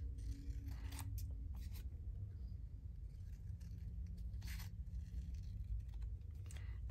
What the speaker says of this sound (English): Not the best, most fun shape to cut out.